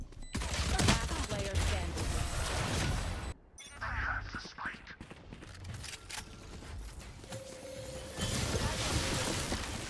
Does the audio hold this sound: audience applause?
no